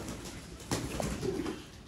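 Sialkoti pigeons coo softly in a Lahore loft, a few low throaty coos close by over a faint background hiss.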